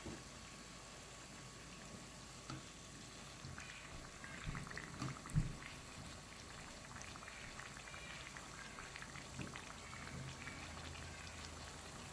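Mahamri dough pieces fry in hot oil, a quiet continuous sizzle and bubbling with a few soft knocks as they are turned and tossed.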